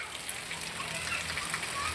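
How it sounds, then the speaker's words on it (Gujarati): Steady, dense rain pours down in a continuous loud hiss, an unbroken wash of falling water with no pauses. "આમ જુઓ ધોધમાર વરસાદ"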